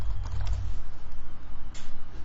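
Computer keyboard keys clatter in a steady, fairly close run of typing as Java code is entered, the taps blurring into a continuous patter over a low hum.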